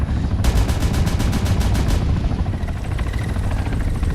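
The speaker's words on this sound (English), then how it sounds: "This one, instead of being 20mm cannon like the Commanche, it's a 30mm cannon." A 30mm helicopter cannon in the Arma 3 video game fires a rapid burst of about a dozen loud, evenly spaced shots, followed by a steady rotor and engine drone.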